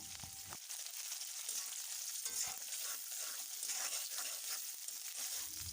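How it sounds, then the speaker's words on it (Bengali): Chopped onions, about four of them, fry in a pan with a steady, close, hissing sizzle that runs unbroken throughout, and no one speaks. "আমি প্রায় চারটা পেঁয়াজ কুচি করে নিয়েছি এবার এটা ভালোভাবে ভেজে নিব"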